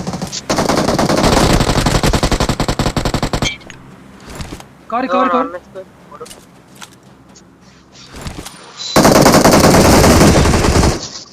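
Automatic gunfire in a competitive multiplayer shooter scrim, with two long, loud, rapid bursts at the start and end and a player's voice talking in the quieter gap between them.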